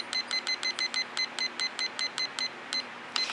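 A kitchen timer gives a steady string of about a dozen short, high, evenly spaced beeps as it is set, close and fairly loud, with a slight pause before the last few.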